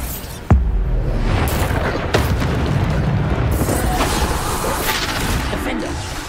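Bombarda spell explosion in Hogwarts Legacy, a sharp booming blast up front followed by a second thump and a long rumbling crash tail under steady game noise.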